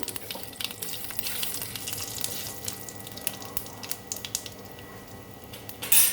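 Cumin, garam masala and a bay leaf sizzle in hot frying oil, a close crackling hiss with scattered pops and faint stirring clinks, ending in a louder burst.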